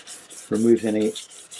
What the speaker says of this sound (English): I'm going to take a little bit of 1500 sandpaper and just give it a light rubbing